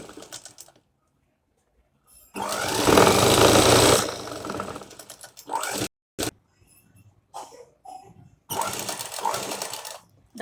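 A sewing machine stitches a blouse in a loud, dense burst of whirring lasting a couple of seconds, followed by shorter stop-start runs separated by pauses, with a voice talking between them.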